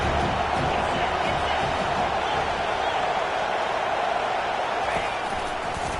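A large stadium crowd at a Baylor versus TCU college football game roars in a steady, dense wash of cheering that holds loud throughout, with a commentator talking over it.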